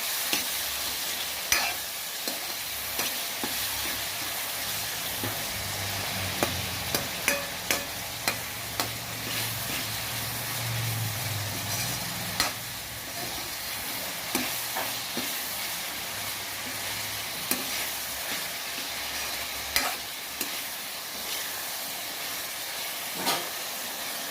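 Tomatoes with rock salt sauté in a pan as the base of a pomfret fish curry. A continuous close hiss and sizzle runs under it all, with a spoon knocking and scraping the pan at irregular intervals.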